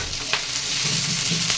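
Chopped tomato hits hot oil with onion, garlic, ginger and green chillies for a chicken curry, giving a steady close sizzle with a couple of brief stir clatters and no talk.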